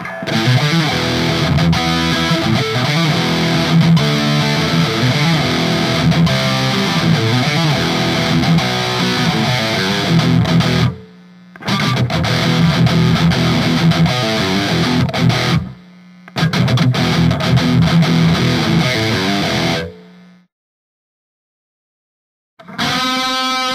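Ernie Ball Music Man JP7 electric guitar played through a Hughes & Kettner Triamp mkI with a scooped, aggressive distorted tone, loud dense riffing with two brief breaks before it cuts to silence near the end.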